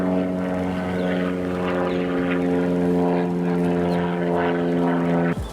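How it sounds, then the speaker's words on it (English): A noisy propeller plane drones overhead, a loud steady engine hum with strong harmonic tones holding evenly throughout, then cutting off abruptly at the end, with no talking. "as soon as that noisy plane goes"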